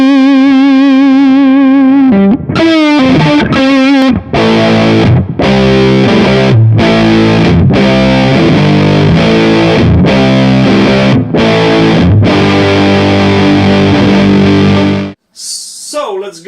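An electric guitar runs through the Muffin distortion in a Kemper Profiling Amp, giving a thick, fuzzy, sustained tone with bursts of chords and short gaps, loud and close, ending with a brief pause and a short final burst.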